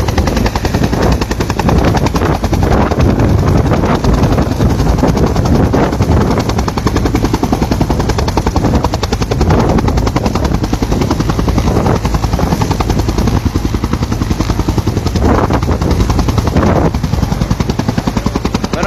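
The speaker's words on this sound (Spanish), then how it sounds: "el segundo helicóptero ha despegado aquí en el campo del" A police helicopter lifts off from a field in the municipality of San Pedro, its rotor thudding loud, close and steady throughout.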